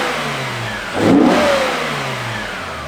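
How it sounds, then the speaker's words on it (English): A high-mileage BMW E60 M5's S85 V10 engine revs sharply once near the middle, a loud rising bark from a steady idle that then settles back to a smooth, droning idle, with no talking. "I wanted to gift the world with glorious S85 V10 noises."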